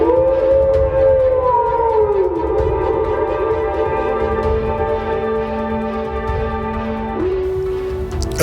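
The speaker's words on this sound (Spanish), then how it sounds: "Los perros aullaban." Dogs howl in long, wavering, drawn-out tones that slide up and down over a dense background. The howls are loud and continuous, set in a horror tale.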